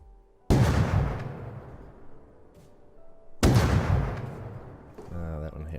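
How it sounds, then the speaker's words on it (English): Two loud shotgun blasts in the Rust video game, each a sharp crack followed by a long rumbling decay, spaced about three seconds apart, with a brief voice at the end. "for some reason I guess the projectile for the shotgun maybe is just much bigger"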